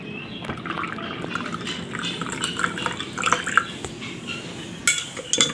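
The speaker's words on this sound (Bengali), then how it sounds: "এখন পরিমাণ মতো পানি দিচ্ছি" Water is poured into a drink mixture made with ginger and mint leaves, giving a close, bubbly gurgling splash with scattered drips and a few light clinks of a container.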